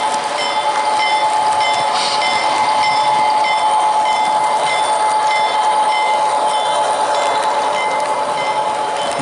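An HO scale Bowser CP GMD SD40-2F model train rolls along continuously with a steady mechanical hum and light metallic clicking, close and fairly loud throughout.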